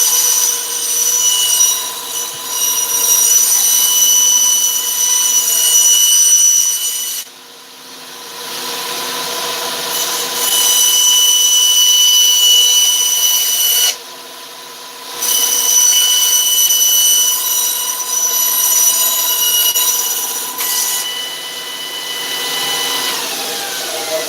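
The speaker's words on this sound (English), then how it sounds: "I'm gonna start the bandsaw on 3, 2, 1" A bandsaw runs loud and close with a shrill, whining hum that cuts out briefly twice and then resumes, steady between the breaks.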